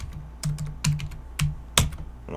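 Someone types on a computer keyboard nearby with quiet, irregular keystrokes and a few brief bursts of quick clicks.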